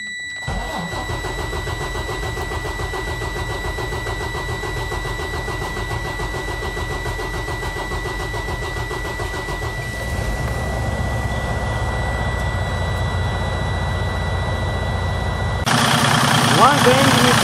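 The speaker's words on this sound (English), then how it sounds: "And then you crank the engine." A Freightliner Cascadia DD15 diesel truck engine cranks steadily for several seconds, then catches and runs up into a loud idle, with a voice talking over it. The engine rises again near the end.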